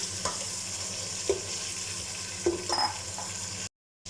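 Tomatoes fry for yakhni pulao with a constant sizzling hiss in a pan, while a few soft stirring scrapes sound nearby before the sound cuts off.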